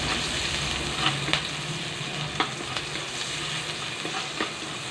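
Onion frying in a pan for chicken adobo with potatoes, sizzling steadily and close, with occasional clicks and scrapes of stirring over the constant hiss.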